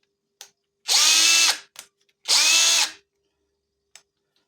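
A TexAC TA-CD30 cordless drill-driver runs at second speed in two close, loud whirring bursts of under a second each, separated by a short pause, with faint clicks before and after.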